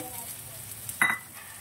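Onions fry in a pan until browned, making a faint, steady sizzle that is briefly punctuated by a light clink of utensil against pan.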